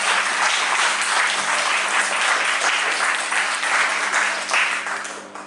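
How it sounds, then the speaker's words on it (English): Participants at a senior school debate adjudicators workshop in Brunei give warm, dense applause that holds steady for several seconds and then fades out. "Let's give them a round of applause."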